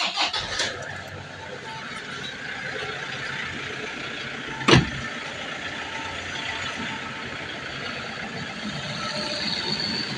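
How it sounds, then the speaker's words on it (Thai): A Toyota Vigo Prerunner lifted pickup truck engine idles steadily and quietly at close range, with a low constant hum and one brief sharp knock partway through. "หาชมรีวิวสตาร์ทเสียงเครื่องหน่อย ต้องบอกไว้ก่อนว่า เสียงเครื่องคันนี้เงียบมากนะครับ"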